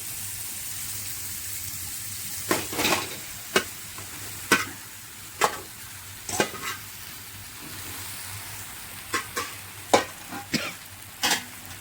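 Puffed rice (borugulu) stirred through a hot pan for Rayalaseema-style uggani, giving a steady low sizzle punctuated by sharp, irregular scraping and clinking strokes of the spoon, close by with no talking.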